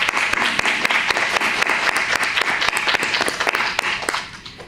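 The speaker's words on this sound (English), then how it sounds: "we're going to have a round of applause for everybody." Audience applause at a media management orientation, a full room clapping steadily and loudly, then tapering off at the end.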